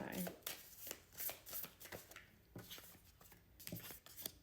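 Tarot cards being shuffled by hand, a repeated run of soft riffling flutters and taps in bursts that is close and quiet, with a voice talking over it.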